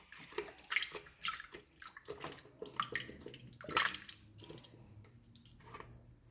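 A mixer bowl rinsed under running water, with irregular splashing, sloshing and dripping bursts that rise and fade, close and fairly quiet with no talk.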